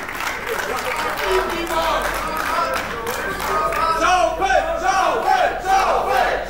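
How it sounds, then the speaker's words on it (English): A wrestling crowd at an Unlimited Wrestling IceBreaker show chants loudly for shovels, a rhythmic roar of many voices with scattered shouts and claps, filling the arena close and continuous. "And the whole crowd now asking for shovels."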